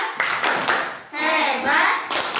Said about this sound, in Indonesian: tepuk hebat buat Najibah